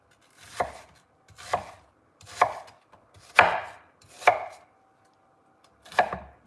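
A knife chops onions on a board: six distinct, evenly spaced thuds, close and clear, with quiet gaps between strokes and no talking.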